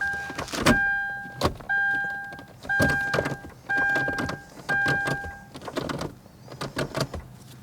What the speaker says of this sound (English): Now, whenever I shift the gears, it should move.